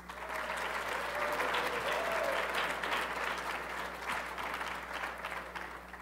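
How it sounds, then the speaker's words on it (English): Steady applause from a school audience honoring two chess winners, a sustained wash of clapping that holds evenly throughout at moderate distance. "Please give a round of applause for our two GPA chess winners"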